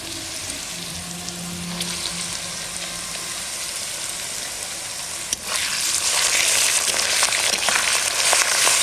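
Ginger and garlic paste frying with browned onions in oil gives a steady close sizzle that jumps louder and brighter partway through as the paste hits the pan, with faint stirring scrapes.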